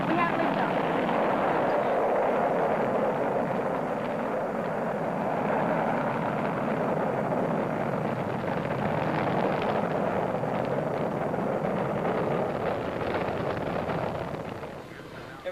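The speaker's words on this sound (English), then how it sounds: "We have liftoff." A rocket lifts off with a sustained, broad, rumbling roar that holds steady and loud for the whole stretch, tapering slightly at the very end, with no talk over it.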